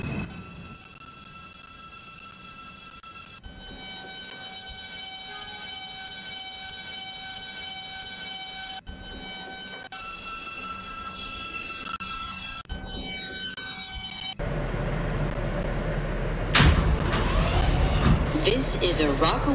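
Steady hum and whine of a video game NYC L line subway train in motion, with tonal electric motor pitches rising and a louder rumbling surge near the end.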